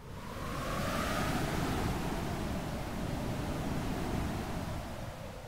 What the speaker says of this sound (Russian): И я просто в модуле погоды нарисовал ветер.